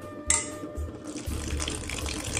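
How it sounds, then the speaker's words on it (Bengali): Water poured from a container into a bowl of spiced cauliflower pakora batter, a short splash followed by a steady close trickle and sloshing, with no talk over it. "এই যে জল দিয়ে দিলাম"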